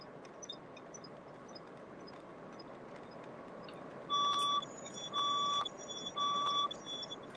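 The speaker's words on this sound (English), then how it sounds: "Oh, fire alarm." Three electronic fire alarm beeps ring out at a steady interval during a building fire drill, over a constant low background hum, each tone lasting about half a second.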